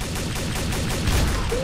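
Rapid video-game gunfire rattles in a dense, steady stream of loud shots over a noisy battle backdrop.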